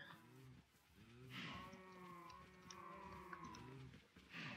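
Cattle in Minecraft low repeatedly, several drawn-out moos overlapping one another at close range, with no talk over them.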